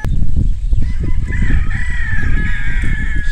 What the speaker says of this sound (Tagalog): So ito po ang ating mga sisiw. Masisigla po sila, gumagala.